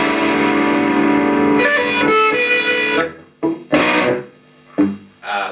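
An electric guitar on its bridge pickup plays through a distorted Marshall-stack-style amp channel: a sustained, heavily overdriven chord rings out, followed by several short, choppy distorted stabs separated by brief gaps.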